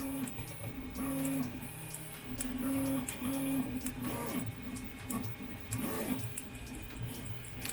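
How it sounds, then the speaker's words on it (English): Wet Taulman nylon filament pops and hisses as it extrudes on a 3D printer, with irregular crackling ticks over the whine and whirr of the printer's stepper motors, close and continuous. "This is what wet filament sounds like. This is Tallman nylon."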